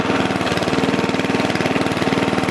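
A Murray Wide Body lawn mower engine running steadily with a loose exhaust, giving a loud, close, rapid rattling chug that stays even throughout with no talk.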